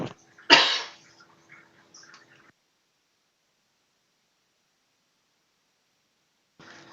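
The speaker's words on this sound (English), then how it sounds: "Sorry, coughing." One sharp, close cough bursts out, followed by a few faint rustles and then near silence.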